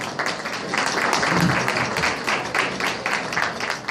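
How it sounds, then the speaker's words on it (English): Applause from an audience at a women's development center anniversary celebration, a close, continuous patter of clapping hands holding steady for several seconds. "Please give them both a big round of applause"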